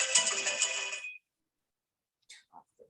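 A mobile phone ringtone plays a bright, repeating electronic melody for about a second and then cuts off abruptly, followed by a few faint whispered sounds.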